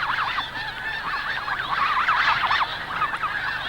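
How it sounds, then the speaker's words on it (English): Wild geese honk insistently back and forth to each other, a dense, close chorus of overlapping calls without a break. "the wild geese talk insistently to each other"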